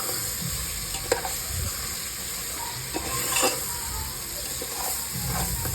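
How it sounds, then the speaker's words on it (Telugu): Goat tripe is stirred into fried onions in a pressure cooker for Telangana boti curry, producing a continuous close sizzle and hiss broken by scraping stirs, with no voices. "ఇప్పుడు మంచిగా వేగిన ఉల్లిగడ్డల్లో నీళ్ళు ఆడ్చుకున్న బోటిని తీసి కుక్కర్లో వేసి మంచిగా దగ్గరగా కలుపుకోవాలి"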